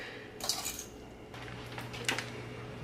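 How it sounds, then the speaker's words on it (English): A fork mashes very tender, overcooked steamed cauliflower for a puree, giving two short, close squishing scrapes of metal against a dish, separated by a quiet pause. "As you can see, I can mash it easily with a fork."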